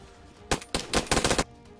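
Gunfire from a weapon in the survival game DayZ: a rapid burst pattern of several loud, sharp shots in quick succession, clustered over about a second, with no talking.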